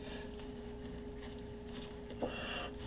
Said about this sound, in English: We'll wipe the rust-proof coating off of it.